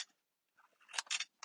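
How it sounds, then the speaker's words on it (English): Scissors snip through paper, a few short, crisp cuts close by and quiet, in quick succession with brief pauses. "angle cut the square"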